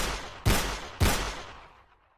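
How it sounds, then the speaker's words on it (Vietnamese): Two sharp pistol shots crack close together in a drama scene, each followed by a decaying echo that fades out. "quay lại chĩa mũi súng hướng về phía Ueyo bắn một cách điên cuồng"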